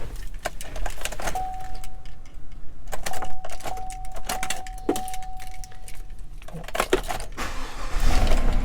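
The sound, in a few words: car keys jangling while trying to start truck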